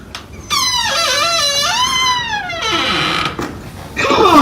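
A door squeaks open in one long, wavering high whine that bends up and down over a few seconds, loud and close, then ends in a brief rattle.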